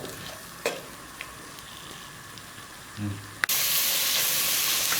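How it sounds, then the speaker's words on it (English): Onions frying in a pan for a Sri Lankan red fish curry: a faint sizzle with a couple of light knocks, then a sudden loud, steady hiss as the heat takes hold. "So first let's get the onions sauteed."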